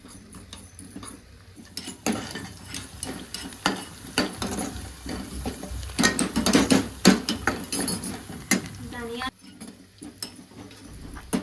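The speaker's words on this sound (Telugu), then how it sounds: "సో ఇప్పుడు ఫస్ట్ మిరియాలు, సోంపు, షాజీరా ఇవి ఫ్రై చేసుకుందాం" Black pepper, fennel and shahjeera frying in a pan while being stirred, with steady sizzling and scraping spoon clatter throughout, mixed with background speech.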